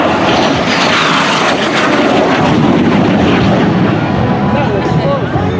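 A T-33 Shooting Star, a straight-wing jet trainer with a 5,400-pound-thrust engine, roars past at the California International Air Show, a loud, sustained broadband rumble filling the whole clip.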